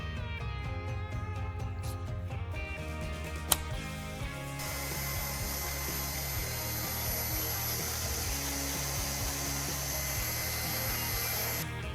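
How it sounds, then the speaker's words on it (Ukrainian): A cordless screwdriver spins an abrasive bit against the inside edge of metal to remove a burr, first whirring in short bursts, then grinding in a steady high whine with a sharp click between. "Використовую шуруповерт, насадку абразивну, знімаємо задир."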